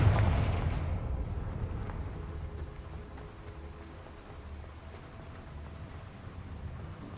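A heavy blast from the Confringo spell in a video game, a deep booming explosion at the start that fades into a long low rumbling tail.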